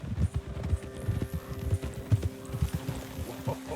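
Horse hooves clip-clop steadily over gravel in the Western game Red Dead Redemption 2, a quick regular gait with crunchy footfalls, moderately loud and close, with faint ambient background.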